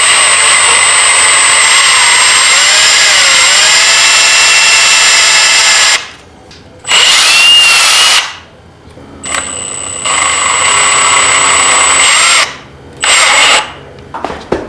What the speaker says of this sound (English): I'm going to pre-drill some holes, throw some screws so it doesn't split